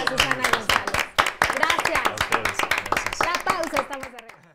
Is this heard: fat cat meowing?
no